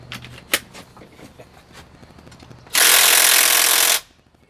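A Makita cordless power tool works on the front motor mount bolts of a GM 6.5 turbo diesel engine, giving one loud, steady burst of about a second after a stretch of faint clinks and handling noises.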